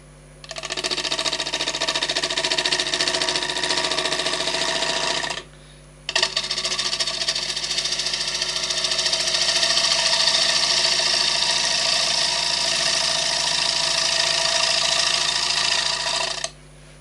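A wood lathe spins a bowl at about 850 rpm while a Sorby bowl gouge cuts its edge, giving a steady loud mechanical whir and cutting hiss that drops out briefly for about a second midway, then resumes.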